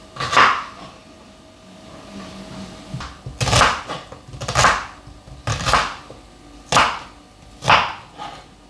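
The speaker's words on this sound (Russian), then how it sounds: "Сейчас наша задача килограмм лука порезать." A knife chopping onions on a board as part of a kilogram batch for squash caviar, about seven sharp separate strokes, loud and close, with short pauses between them and no talk.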